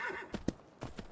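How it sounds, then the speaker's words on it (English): Horse galloping in the video game Myth of Empires, a few quick hoof clops in uneven rhythm, close and fairly loud, with a short whinny-like tone at the start. "Yeah, go horse, go."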